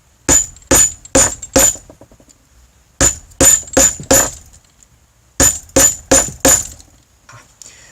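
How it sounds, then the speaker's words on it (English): A plastic hammer taps rivets into a leather steampunk cellphone pouch: three groups of four sharp, loud, close strikes, each ringing briefly with a hard metallic clink, separated by short quiet gaps. "Okay, so we'll set the rivets. And I always use this kind of hammer because the plastic will not deform the tool."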